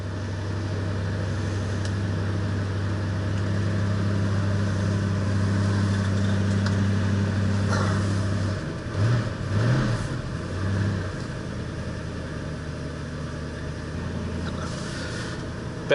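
A 1966 Ford Mustang engine idles steadily with a low, even rumble, then blips briefly louder and rougher around the middle before settling back to a smooth idle, heard close with no talking.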